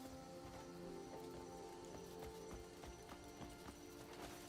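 Horse hooves clip-clop steadily at a walking pace in the video game Crimson Desert, soft and moderately close with a faint background ambience.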